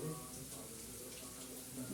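Water poured into onions in a cooking pan: a soft, continuous splashing trickle lasting a couple of seconds, quiet and close.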